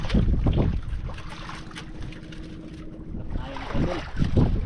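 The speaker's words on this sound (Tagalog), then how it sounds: "Hangin pa rin talaga yung amihan idol" The amihan northeast monsoon wind blows hard at an open outdoor spot, buffeting and rumbling in gusts that rise at the start and end.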